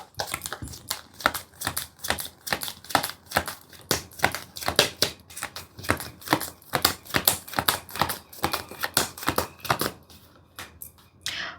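A deck of tarot cards is shuffled over and over, making close, crisp riffling bursts in a quick, uneven rhythm, with no talk over them.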